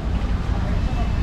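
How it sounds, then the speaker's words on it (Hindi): Strong wind roars as a broadband rush across the microphone during a weather change in Delhi, steady and close throughout. "बहुत तेज़ हवा चल रहा है"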